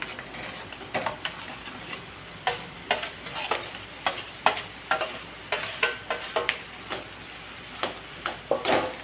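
Hand-mashed potato stirred into a sizzling pan for a paratha filling: repeated scraping spoon strokes in an uneven rhythm over a continuous frying hiss, close and fairly loud.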